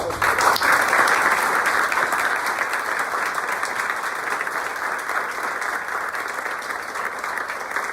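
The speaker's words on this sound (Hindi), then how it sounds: "तो जोरदार तालियों से इन लोगों का फिर से।" A room of students and listeners at a coaching institute gathering breaks into loud, sustained applause, a thick continuous roar of clapping that stays strong from start to finish.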